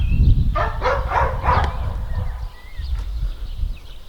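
Dogs bark in a short burst of about four rapid yaps at an outdoor station with chickens and other livestock nearby, set against a low rumbling background.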